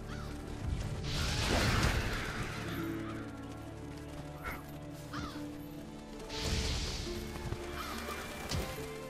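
Revolture scavenger birds cawing in the video game Monster Hunter World, with two loud, harsh bursts of calls over a steady game ambience.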